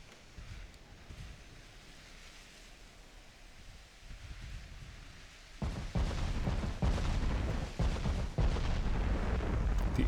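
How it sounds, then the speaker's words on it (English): Broadside fire from 18-inch battleship guns in the naval game Ultimate Admiral: Dreadnoughts, a steady rumbling ambience of sea and wind with heavy booming shots that grow denser and louder in the second half, no talking. "The 18-inch guns in this game are so incredibly punchy."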